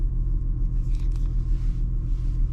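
A 2017 Porsche Cayenne on the open road, heard as a steady low engine and road rumble with faint tyre hiss, continuous and close throughout.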